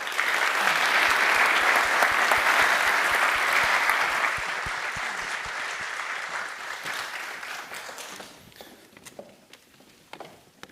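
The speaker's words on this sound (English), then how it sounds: "Big applause to them." Applause fills a business center event hall, loud and dense at first, then thinning into scattered claps and dying away over about ten seconds.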